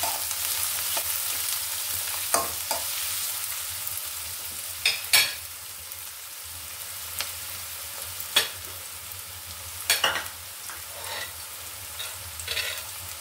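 Chopped onion and garlic paste fry in a pan with a steady, fairly quiet sizzle. Irregular utensil scrapes and stirring clicks recur throughout, close by, with no talking.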